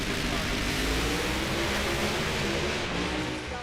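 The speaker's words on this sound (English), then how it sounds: "Both drivers on and off the throttle" Pro Modified drag racing cars at an NHRA event in Englishtown roar with a loud, continuous, broadband engine blast as drivers go on and off the throttle, heard from a distance with a slight drop toward the end.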